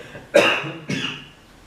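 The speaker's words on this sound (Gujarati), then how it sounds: "થોડીક ઉધરસ આવે કારણ કે પાણી પીધું હતું અને નાકમાં ચડી ગયું" Two coughs in quick succession from one person who had inhaled water up the nose while drinking, each a sharp burst fading out, close and clear with no speech.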